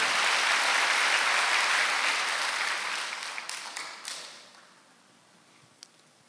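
A church congregation claps during a Wednesday worship service, a dense wash of applause that carries loudly for several seconds, then thins and fades to a faint tail with a few last scattered claps.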